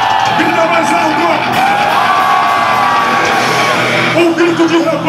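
A concert crowd yells, whoops and cheers loudly and continuously, a dense roar of many voices filling the whole stretch with occasional higher shouts rising above it.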